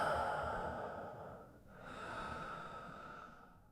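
Slow, deep breaths during a calm guided meditation, a long airy exhale fading out, a short pause, then a gentle inhale swelling and trailing off, close and soft with no talking.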